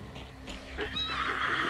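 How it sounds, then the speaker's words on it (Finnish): A horse in a video game gives a brief whinny that rises near the end of a short stretch, heard over a steady background hum with no talk. "Aha, siinä oli hevonen."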